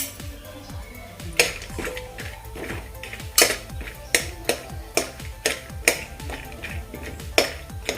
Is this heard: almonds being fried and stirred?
yes